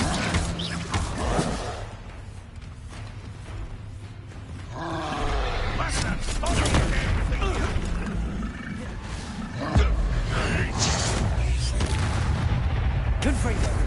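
Incendio fire spell in Hogwarts Legacy amid a busy magical fight, with loud roaring whooshes and booming impacts layered over continuous game noise and a heavy thump near ten seconds.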